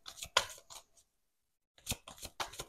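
A tarot deck is cut and handled up close, giving short papery snaps and riffling bursts in two groups separated by a brief silence; quiet overall.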